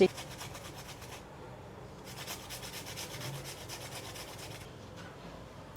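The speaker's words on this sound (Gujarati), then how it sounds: "આદુ આમાં છીણી નાખશું" Ginger grated into a potato cutlet mixture for crispy wedding-style cutlets gives a steady rasping rub, with short pauses between bursts of strokes and faint background noise.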